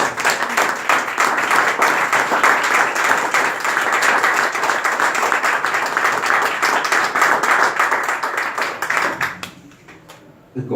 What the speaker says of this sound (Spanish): Yo le quiero pedir también un aplauso a Graciela